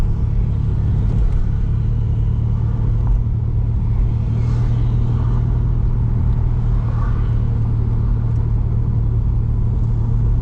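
A car on the road produces a loud, continuous rumble that holds steady for about ten seconds without a clear rise or fall of a single pass.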